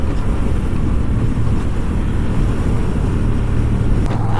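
A Honda Rebel 1100 DCT motorcycle accelerates under throttle, a loud, continuous low engine drone with wind rush, heard from the rider's position without speech.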